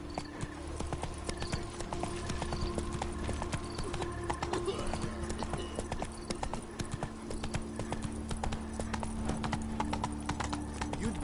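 Roach, a horse in The Witcher 3: Blood and Wine on PS4, walks with steady, even hoof clip-clops that carry on throughout, with some faint talk beneath.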